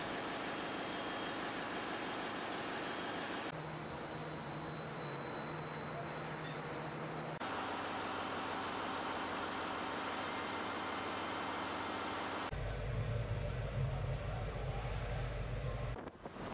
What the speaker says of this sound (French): en salle des machines, où les trois puissants moteurs sont inspectés plusieurs fois par jour